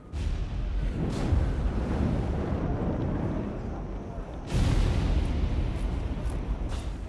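Artillery booms in an Xbox video game, two heavy, rumbling blasts a few seconds apart, each trailing into a long, noisy roar that fills the clip.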